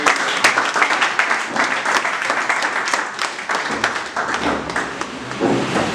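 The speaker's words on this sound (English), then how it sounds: "you are clapping like he has raised your time" An audience claps at the 3MTT Cohort 2 orientation program at JEEF Tech Hub, Ebonyi State, producing loud, close, sustained applause with sharp individual claps standing out from the crowd.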